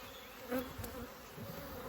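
A low, steady buzz of honeybees droning around a hive hums throughout, fairly faint with no voices.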